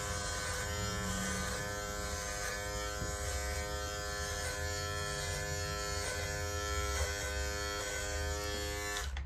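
An electric beard trimmer running steadily while shaving, a close, constant high buzzing hum with slight changes in tone as it moves across the beard.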